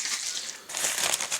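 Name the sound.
rifle cartridge cases put into a plastic bag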